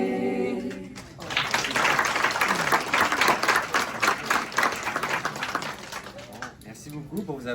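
An audience applauds after a French song, a crowd's clapping that swells to a dense, sustained patter near the start, with voices mixed in toward the end.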